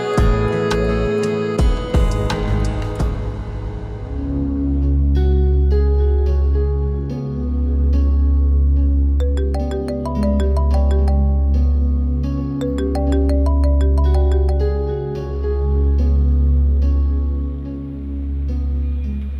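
A phone rings in a domestic drama scene, a repeating electronic melodic ringtone pulsing in regular phrases after a brief clattering start, loud and close with no talk over it.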